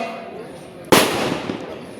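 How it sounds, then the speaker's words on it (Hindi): A single sharp, loud gunshot-like crack with a trailing echo during an army section battle drill, breaking through quiet outdoor background. "दुश्मन का कंटिन्यूअस फायर चल रहा है।"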